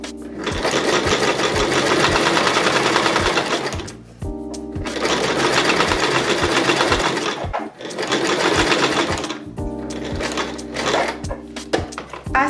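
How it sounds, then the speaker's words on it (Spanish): A sewing machine stitching in a zipper runs in three long, loud, steady buzzing bursts with brief pauses between them, close up and alone. "seguimos cosiendo"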